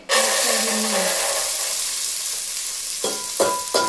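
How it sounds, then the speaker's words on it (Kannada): Dried split beans fry in ghee, a loud, dense sizzle starting abruptly and holding steady close by, with a few stirring scrapes near the end and no talking. "ಇದ್ಕಿನ ಬೇಳೆನ ಫ್ರೈ ಮಾಡ್ಕೊಳ್ಳೋಣ."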